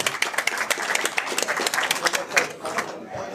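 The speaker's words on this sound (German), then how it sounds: "Applaus für Sven." Lively audience applause at a gala, close and fairly loud, with distinct individual claps standing out over a steady crowd clatter that thins slightly toward the end.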